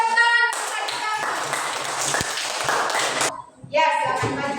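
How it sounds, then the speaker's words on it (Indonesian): Children in a classroom lesson at an Islamic teacher-training school in Gorontalo break into rapid group clapping, a dense burst of many hands that stops abruptly near the end, with voices rising around it. "Berikan tepuk tangan untuk Adik Rafli."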